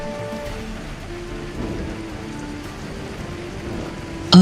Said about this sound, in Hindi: जोर की बारिश होने लगती है